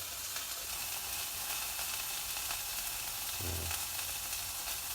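A Juicy Lucy cheese-stuffed burger cooks slowly in a pan, giving a constant soft sizzle and hiss close by, with one brief low knock partway through and no talking.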